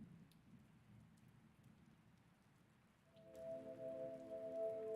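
Rain ambience from the Rain World video game soundtrack: a faint, soft hiss of falling rain, joined after a few seconds by a low sustained musical drone that swells slightly louder.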